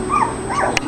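Three-week-old puppies whimper and yip in short, rising and falling cries, close by and fairly soft, with a brief sharper squeak near the end.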